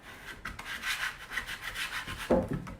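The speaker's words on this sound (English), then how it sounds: "I'm just giving it a good scrape, just to get the transfer tape on there" A scraper rubs transfer tape down onto cut vinyl for a stencil, making close, rhythmic scratchy strokes in short repeated passes with a firmer thump near the end.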